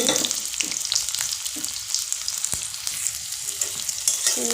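Onions sizzle and crackle steadily in hot oil in a wok while being fried until browned for a country-chicken korma, a close, continuous frying hiss with occasional stirring scrapes and no talking.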